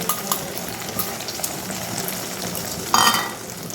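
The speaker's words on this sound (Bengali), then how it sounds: "তো একটা একটা করে ডিম আমি প্রথমে ভেজে নেব" Eggs beaten with green chili and onion frying in oil in a wok-like pan, a moderate sizzle with light scraping and clicks, then a sudden louder burst of crackle near the end.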